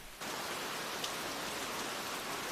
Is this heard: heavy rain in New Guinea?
yes